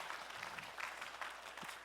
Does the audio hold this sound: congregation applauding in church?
yes